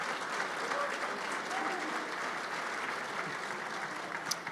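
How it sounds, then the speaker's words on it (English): A banquet audience applauds at a soccer awards dinner, steady sustained clapping throughout with a faint voice underneath. "Yes, applause."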